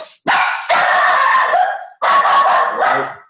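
A dog barks loudly and close by in two long, harsh, drawn-out bursts with a short yip at the start, with no talk.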